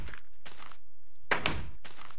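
A Minecraft redstone doorbell rings in the video game as four short, separate tones spaced in an uneven rhythm, clear and fairly quiet with no talking.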